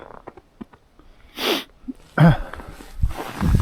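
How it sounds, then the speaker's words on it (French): Several short nasal sniffs and breathy snorts outdoors in minus 12 degree cold and a storm, close to the microphone, scattered across a few seconds with quiet pauses between them and no talking. "Excusez pour les reniflements, là, mais à moins 12"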